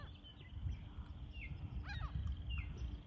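Several birds call faintly in the open near a large lake, including seagulls, with a brief cluster of chirpy calls rising above a steady low rumble of wind or background noise.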